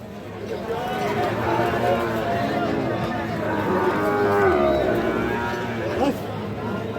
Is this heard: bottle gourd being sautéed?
no